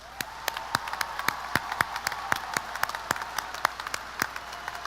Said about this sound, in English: Let's give them an all-around applause.